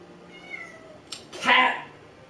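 A house cat meows indoors: a faint early call, then one loud, drawn-out meow near the end, with a person's voice close by.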